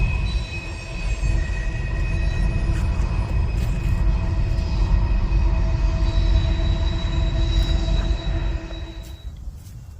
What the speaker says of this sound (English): with the train going by